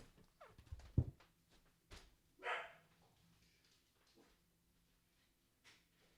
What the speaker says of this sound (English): Oh, my dog is freaking out.